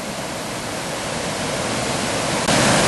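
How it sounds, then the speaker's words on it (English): A river in full spate roars in a dense, steady wash of rushing water, loud and continuous with no voices, growing slightly louder at the end. "you can hear the roar of the water"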